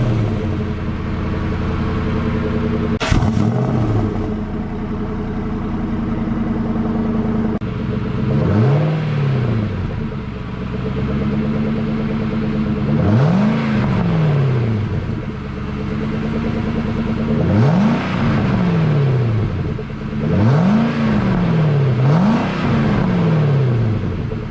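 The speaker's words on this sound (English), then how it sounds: "Let's do a cold start on this Cobra" A 1997 Ford SVT Mustang Cobra with 23,000 miles fires up from a cold start, a sharp crank catch followed by a steady rumbling idle broken by several throttle blips that rise and fall, close and loud throughout.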